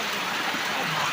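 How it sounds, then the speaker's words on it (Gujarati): Rain begins falling over a farm during the pearl millet (bajra) harvest in Gujarat, a brief, steady broadband patter at moderate level with no distinct drops standing out. "તો મિત્રો વરસાદ ચાલુ થઈ ગયો છે"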